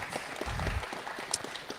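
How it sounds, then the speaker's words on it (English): An audience at a live fund workshop applauds a man introduced as the speaker's father, steady clapping from a seated crowd at moderate volume, carrying on for the whole moment with no voices over it. "Clap it up for John, everybody."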